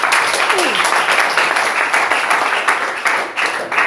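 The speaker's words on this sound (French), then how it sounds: "Applaudissons pour eux." Congregation applauding during a church service, loud continuous clapping from a packed room, steady and dense from start to finish with some faint vocal sounds underneath.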